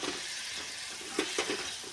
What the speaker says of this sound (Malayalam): ചീനച്ചട്ടിയിൽ നന്നായിട്ട് എണ്ണയൊക്കെ ഉണ്ട് കേട്ടോ. അപ്പോൾ അതൊക്കെ കൂടി ഒന്ന് കറി അതിലേക്ക് കോരി ഒഴിച്ചിട്ട്